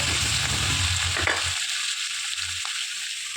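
Onions and green chilies sauté in a pan for chicken kurma, a steady close sizzle and crackle that drops to a quieter hiss partway through, with a couple of brief stirring scrapes.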